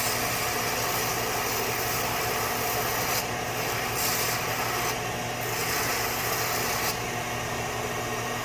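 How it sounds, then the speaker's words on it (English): A belt sander squares up metal parts for a 5.3 LS valve spring install, a steady, loud, abrasive rasp over a constant motor hum that shifts slightly as pressure changes, with no speech. "I'm gonna kind of square them up on the belt sander over here"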